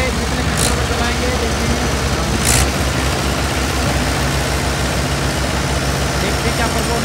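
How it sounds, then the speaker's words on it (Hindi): Mahindra 575 XP Plus tractor with M-Lift running at a farm cultivator demonstration, a steady diesel engine drone close by and continuous throughout. "ट्रैक्टर चलाएंगे"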